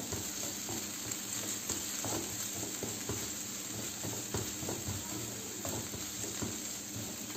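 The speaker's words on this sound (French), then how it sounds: "Vous faites revenir avec les oignons." Chopped onions sautéing in a frying pan with a little red-tinged oil, giving a steady close sizzle and crackle that runs evenly throughout, with a faint stirring scrape now and then.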